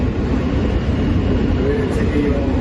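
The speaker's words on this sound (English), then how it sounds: "We're on the train." Steady loud rumble inside a moving train, a dense continuous low roar filling the whole stretch.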